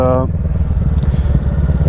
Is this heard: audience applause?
no